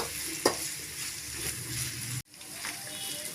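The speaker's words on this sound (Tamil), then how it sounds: "இந்த ஸ்டேஜில் 2 ஸ்பூன் இஞ்சி பூண்டு விழுது சேர்த்துக்கலாங்க. கலந்து விட்டுக்கலாங்க." Ginger garlic paste being stirred into sautéing onions for an egg curry, giving a steady close sizzle with a sharp spatula scrape near the start and a brief drop out before the frying hiss resumes.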